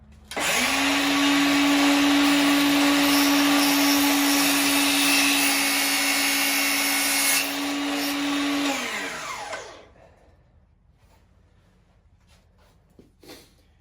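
A power saw blade cuts slowly through an arrow shaft, a loud steady whining drone with a strong tonal hum that runs for about nine seconds before winding down, followed by faint handling clicks.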